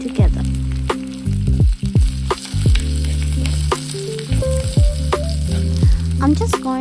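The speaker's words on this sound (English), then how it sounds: "Finally, it's time to add the onions." Onions fry with curry leaves in a pan for an ambarella curry, a close sizzle broken by repeated sharp spatula scrapes and taps in an uneven rhythm, with musical tones in the background.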